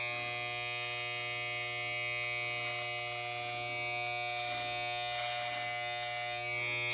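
An electric hair clipper trims a beard close by, giving a steady mains-like buzz with faint pulsing as it runs through the hair, with no talking over it.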